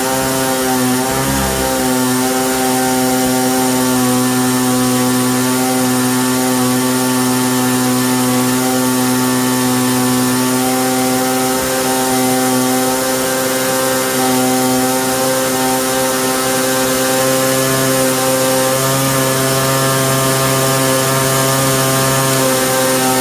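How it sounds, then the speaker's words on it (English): Tuned two-stroke engine on a kids' quad built from a budget mini moto, revving loud and close with a steady, buzzing high-pitched drone that barely dips over a long stretch. "That's a properly tuned two-stroke."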